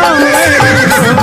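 A horse neighing, one long, loud, wavering whinny that fills the whole stretch and sounds very close.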